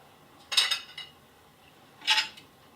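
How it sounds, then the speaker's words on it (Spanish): A whisk clinks and scrapes against a bowl as flour is added to pumpkin fritter batter, two short bursts of close metallic rattling separated by quiet pauses, with no voices. "y ahora vamos batiendo y añadiendo la harina a poquitos."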